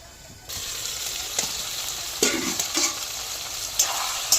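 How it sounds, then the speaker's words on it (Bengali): Mutton with spices and potatoes fries in a pan for a Bengali kosha, a steady sizzle that jumps in after half a second, punctuated by several sharp scrapes and knocks of a stirring spoon against the metal. "ঢাকা দিয়ে আমরা মাংসটাকে কষাবো, তাহলে মাংসটা খুব ভালো সিদ্ধ হবে।"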